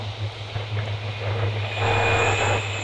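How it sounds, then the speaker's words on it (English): Train rumbling past near a golf course, a steady low drone that swells slightly toward the end, heard alone without talk. "I can hear a train."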